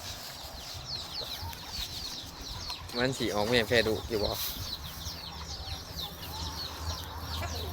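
Chickens cluck in the background, a quiet, scattered stream of calls while someone talks over them nearby.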